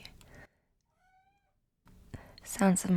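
A faint, thin cat meow sounds briefly in a quiet gap, with soft talking before it and louder speech afterward.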